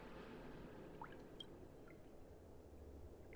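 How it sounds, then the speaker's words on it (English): Water drips onto dry ground in the video game Honkai Star Rail, a few faint, separate drops plinking over a steady low ambient hum. "It is soaking the dry ground below, drip by drip, right before your eyes."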